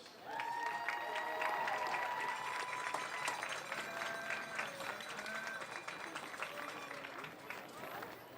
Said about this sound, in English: Please join us in recognizing our parents and families with a round of applause